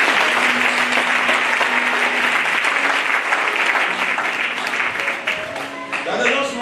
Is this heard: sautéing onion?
no